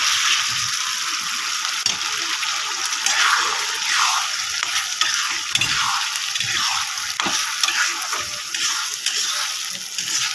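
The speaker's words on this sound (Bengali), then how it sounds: "এখন আমি ডালটাকে ঢেলে দেবো।" Cooked lentils with their cooking water poured into a pan of fried spices for a Bengali dal, giving a loud, continuous hissing sizzle and watery gush that stays close and steady without speech.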